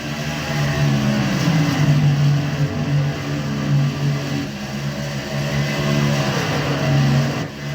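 NASCAR race car engines at full throttle at Charlotte, a dense, steady roar of several cars with a constant high-pitched drone and slight rises and falls in pitch throughout.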